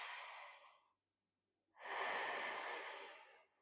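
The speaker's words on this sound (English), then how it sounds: "I want you to take a deep breath in" A slow, deep breath during a guided relaxation: a close, airy inhale, a short pause, then a longer, fuller exhale, with no talking.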